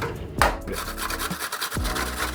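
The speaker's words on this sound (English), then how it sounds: "grate the whole thing" Food for a sauce is rubbed across a kitchen grater in rough, rasping strokes, close and fairly quiet, with no voices.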